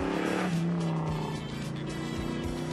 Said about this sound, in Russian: Когда я даю газ, слышно, как воздухозаборник открывается.